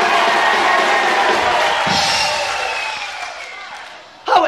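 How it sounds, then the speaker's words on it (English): A concert crowd applauds and cheers, a loud dense roar that fades gradually, with a sharp thump near the end. "Let's have a nice round of applause for Mr."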